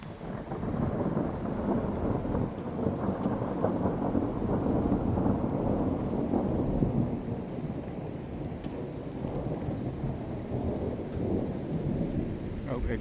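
A thunderstorm rolls on with steady heavy rain and deep rumbling thunder, a dense, loud wash of sound lasting throughout without a break and with no voices.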